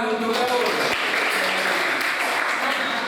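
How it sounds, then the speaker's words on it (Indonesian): Classroom applause during a school lesson on waste management, steady clapping from a group of students filling the whole moment, with a voice briefly heard at the start. "beri tepuk tangan untuk Daud."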